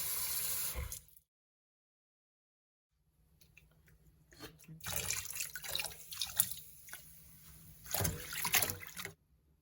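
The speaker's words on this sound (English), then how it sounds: "rinse, wash them up really good, and put them in my dry rack" A kitchen tap runs while freshly harvested basil, celery and string beans are rinsed, splashing in uneven bursts around a two-second silent gap, close and fairly quiet.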